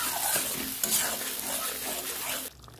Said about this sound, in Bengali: ভালো করে নিয়ে একটু কষিয়ে নেব।